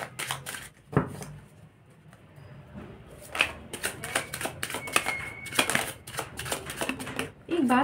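Tarot cards are shuffled and drawn, making a quick run of papery snaps and flicks close by, with clustered bursts toward the end and a voice present.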